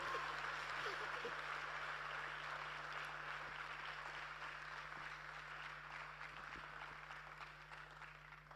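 A crowd at a youth dialogue convocation claps in sustained, moderately distant applause over a low mains hum, slowly fading toward the end, with faint talk in the background.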